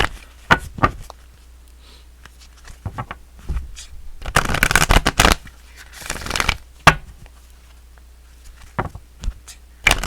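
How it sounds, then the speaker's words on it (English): Moonology oracle cards being shuffled by hand, close and crisp, with bursts of riffling and flapping card noise broken by short pauses and taps, no talking. "let's go ahead and pull a moonology card for the Sagittarius collective"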